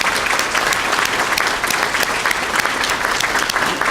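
A police awards ceremony audience breaks into sustained, dense applause, a steady wash of many hands clapping close and loud from start to finish with no break.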